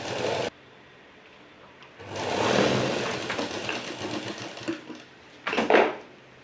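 A sewing machine stitching a blouse sleeve runs in a couple of loud bursts of whirring, separated by quieter pauses with faint handling noise, close by and with no talk over it.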